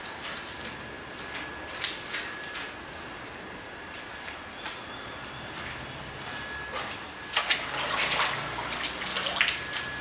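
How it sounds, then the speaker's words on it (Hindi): Water sloshes and splashes as a cleaning cloth is rinsed in a bucket of fresh water during a chemical-free car wash, with soft dripping and a louder burst of splashing near the end. "ये देखिए पहले आप रिंस करिए पानी में, and then you take this fresh water"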